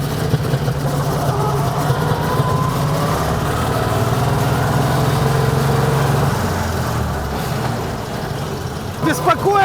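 A loud, rough engine of an old GAZ-AAA truck drones steadily as it drives along, with rattling and a shift in pitch near the end, heard from inside the cab.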